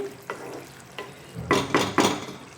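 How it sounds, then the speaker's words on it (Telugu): Brinjal curry is stirred in a pan with a ladle, several scraping strokes with soft sizzling, the last three strokes louder and close together, with no talking. "వంకాయ కూరని ఒకసారి మళ్ళీ ఇలా కలిపి"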